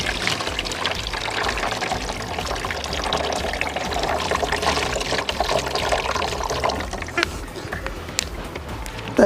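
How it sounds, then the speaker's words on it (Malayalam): Diluted sulfuric acid poured from a cut-open car battery into another container, a steady near liquid pour and trickle running throughout with a brief clatter at the end. "ഈ ഒരു പാത്രത്തിലേക്ക് നമുക്ക് ഒഴിച്ചു കൊടുക്കാം."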